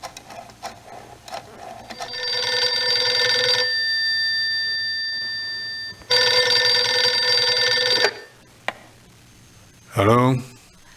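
Telephone ringing in the adventure game Gabriel Knight 2: two long electronic ring bursts with a steady tonal buzz, separated by a pause, loud and clear, followed by a brief voice.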